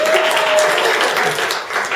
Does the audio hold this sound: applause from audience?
yes